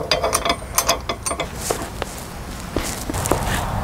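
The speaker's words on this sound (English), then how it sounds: "From the opposite end, grab the bolt with the handle and hand tighten." Metal clicking, scraping and ratcheting as a handled bolt is hand-tightened into a square-tube trailer hitch, a run of close, irregular mechanical clicks and knocks with no talking.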